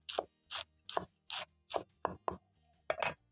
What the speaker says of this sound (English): using a sharp knife, you're going to thinly slice your kale.